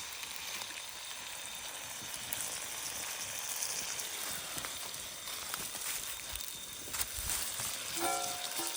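A big crab fries in hot oil at an outdoor picnic, giving off a soft, steady sizzle with a faint crackle. The sound is quiet and constant, with a few small pops.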